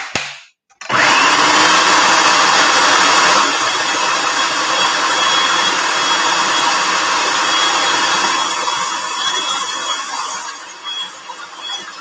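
Blender or food processor motor whirring steadily for about eleven seconds while blending fresh herbs in a kitchen, starting abruptly after a brief pause and staying loud and close, alone without talk.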